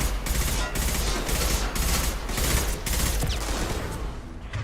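Impact shot gunfire in the Mass Effect 2 video game: a loud, close volley of sharp repeated shots in quick uneven bursts that trail off into a quieter tail.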